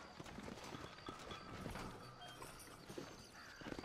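Horse hooves clop at a steady walking pace amid a dense, noisy video game soundscape, with a horse's whinny surfacing briefly.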